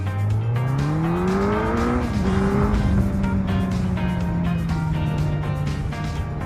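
Suzuki Hayabusa motorcycle accelerating hard in first gear, engine pitch rising steeply then settling into a loud steady high drone, with wind rush close by.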